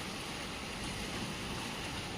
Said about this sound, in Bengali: হঠাৎ করে বৃষ্টি শুরু হয়ে গেছে দেখো বন্ধুরা